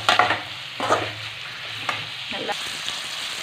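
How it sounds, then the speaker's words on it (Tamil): Chicken sautéing in a pan for pepper chicken gravy, with scraping stir strokes and a steady sizzle, close and moderately loud, no talking. "நல்லா வதக்கிக்கோங்க சிக்கனை"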